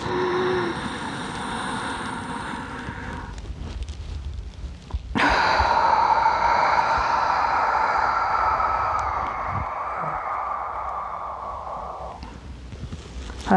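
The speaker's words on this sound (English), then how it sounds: "Use your stomach to breathe." Slow deep breathing from the stomach during a relaxation exercise: a long drawn inhale or sigh, then a broad airy exhale lasting several seconds, close and fairly loud with no talk.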